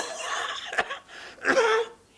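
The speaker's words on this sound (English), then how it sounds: "You've still got that blessed cough." Two short, raspy coughs close by in a 1973 British TV drama scene, a brief gap between them, with quiet room tone around them.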